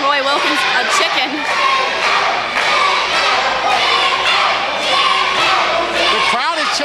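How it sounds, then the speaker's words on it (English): Arena crowd at a live CWF Mid-Atlantic pro wrestling event chanting at a wrestler, a loud, dense wall of massed voices that swells in repeated bursts throughout. "The crowd is chanting chicken right now"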